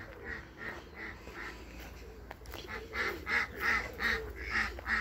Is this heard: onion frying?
no